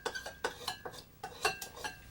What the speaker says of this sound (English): You take your knife that you've pictured already for me, okay? And you stir in the salt.